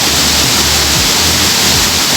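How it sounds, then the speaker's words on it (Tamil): Water pours down from Senbagathoppu dam near Thiruvannamalai as a loud, steady, close rushing roar with no break and no voices. "கீழே விழுந்து பாருங்கள் கொஞ்சம் தண்ணி போகுது"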